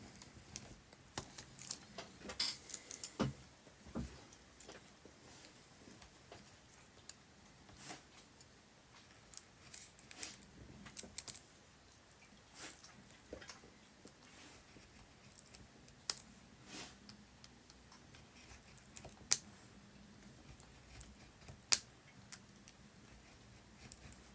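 A blade makes light, repeated strokes through material during a model-making build of a French chateau's roadside windows, producing faint, sparse ticks and scratchy clicks at irregular intervals over quiet room tone.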